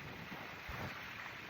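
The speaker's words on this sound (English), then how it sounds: "The wind is blowing." Cold wind blowing steadily beside open water, a constant broadband rush with buffeting gusts against the microphone and faint lapping water beneath, no voices.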